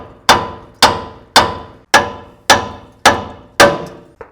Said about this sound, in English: I'm going to hit with a hammer right in this surface area, and that's going to free the ball joint up from this knuckle.